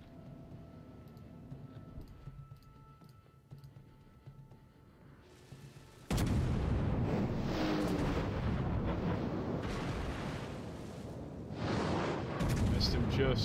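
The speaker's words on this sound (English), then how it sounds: "Battleship's lining up broadside to try and finish him off with the rest of his guns" Heavy naval gunfire from a German battleship firing a broadside in the World of Warships video game, with a sudden loud blast around the middle that sustains as rumbling roar, swelling again near the end over quieter game ambience.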